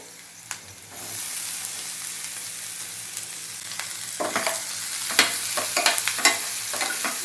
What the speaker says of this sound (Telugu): అలసందలు వేసి ఇలా చక్కగా ఇదంతా పట్టేట్టు ఇలా కలుపుకున్నాము